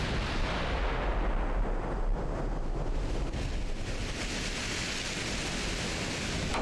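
Naval guns fire a salvo in the battleship game Ultimate Admiral: Dreadnoughts, heard as a dense, roaring rumble of blasts over constant wind and surf noise from the sea.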